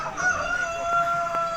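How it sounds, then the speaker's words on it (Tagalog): A rooster crows in one long, sustained call at a large chicken farm, ringing clearly over a steady background murmur of other fowl. "tumitilaok na yung manok"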